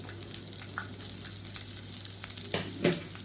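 Steady sizzle of sliced large onions sautéing in a pan, with occasional stirring clatters and a louder scrape near the end.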